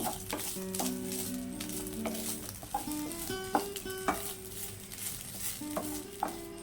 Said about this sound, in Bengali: মিনিট এভাবে চালটাকে আমরা ভেজে নেব